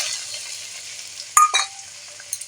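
Chopped tomatoes hit hot oil in a pan with a bright, steady sizzle and a sharp burst partway through, followed by a brief clink of a utensil.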